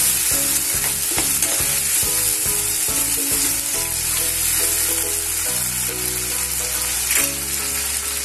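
Tomato and onion sizzle in hot oil in a pan while Kolhapuri misal is cooked, a steady close crackle broken by scraping stirs and clinks at the start, with no talking.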